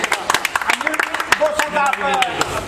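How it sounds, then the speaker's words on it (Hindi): Scattered audience clapping at a music event in Paschim Vihar, uneven sharp claps that build toward a fuller patter, with a voice talking over them. "तालियां इनके लिए।"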